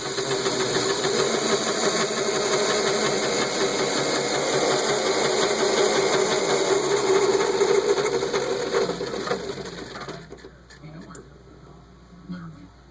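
A Lego 10-speed transmission with a 2-speed box runs in tenth, its top road gear, giving a steady whirring, buzzing motor drone with gear chatter for about ten seconds before winding down, with a voice talking over it.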